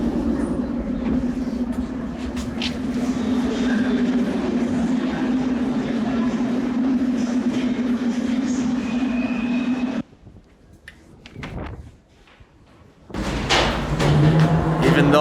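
A Soviet-era metro train in a Minsk underground station rumbles loudly and steadily for about ten seconds, then the noise drops away briefly before rising again with screeching and clatter.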